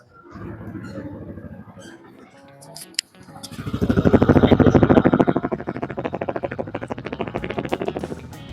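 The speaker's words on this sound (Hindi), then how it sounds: "एक बार मैं इसके आपको साइलेंसर के एग्जॉस्ट मोड सुनाता हूँ" A Honda Hornet 125cc motorcycle engine fires up with a sharp pop, then a loud, rough exhaust rumble revs and settles into a steady throbbing idle, close by.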